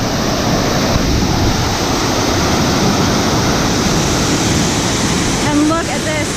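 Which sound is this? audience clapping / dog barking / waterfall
waterfall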